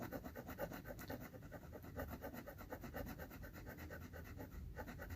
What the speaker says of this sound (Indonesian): Keseluruhannya diamplas.